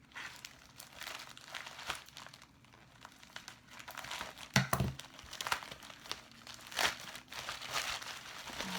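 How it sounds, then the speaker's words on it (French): Soft crinkling and rustling of packaging as a parcel is opened, with scattered crackles and a few sharper tearing bursts, fairly quiet and close, no talk. "Allez hop, on déballe une autre"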